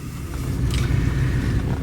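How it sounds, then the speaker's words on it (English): A 1969 Cadillac Sedan DeVille's big-block V8 runs at a smooth, steady idle, a continuous low rumble close by, with some breezy wind noise over the microphone and no talk. "Big block coming right to life. Very, very smooth running engine."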